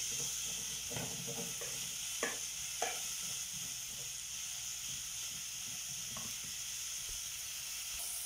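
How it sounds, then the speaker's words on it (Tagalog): Tomatoes cooking in a frying pan give a steady low sizzle, with a few soft stirring scrapes of a utensil against the pan and no voices. "Lutuin natin para yung kamatis kailangan luto para yung lasa niya maging okay"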